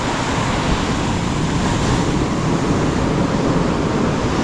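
Sea waves and surf surge at high tide in a loud, continuous roar of churning water and wind, with no one talking.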